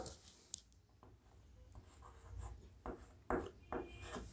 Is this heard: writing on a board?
yes